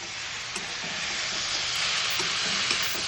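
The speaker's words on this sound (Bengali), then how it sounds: "চলো ভালো করে মিশিয়ে নিই।" Bottle gourd being stirred and fried in a pan, giving a steady broadband sizzle with faint scraping stirs, close and continuous with no talk.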